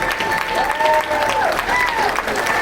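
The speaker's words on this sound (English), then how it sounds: "Let's give him a round of applause" Applause for a veteran fills a room at a patriots benefit, with steady, fairly dense clapping from the crowd. A voice talks over it throughout.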